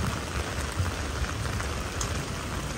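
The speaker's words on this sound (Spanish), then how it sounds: "ya hace más de una semana que está lloviendo aquí en Busan, en Corea" Torrential rain in Busan, Korea pours in a dense, unbroken hiss with water running down the streets, loud and close with no talking.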